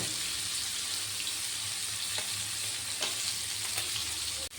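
Pomfret fish frying in a pan, a continuous close crackling sizzle of hot oil with a few sharper pops and spatters, heard alone without voices.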